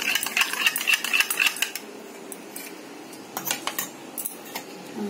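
A knife cuts mangoes for a mango doi, giving a string of light metallic clicks and taps against a plate or board, clustered early and then sparser, fairly close, with no talking.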